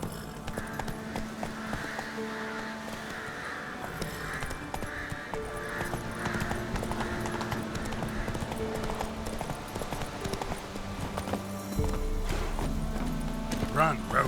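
Hoofbeats of Roach, the horse in The Witcher 3 (Death March playthrough), clip-clop steadily at a gallop under game music, with a speaking voice over the running.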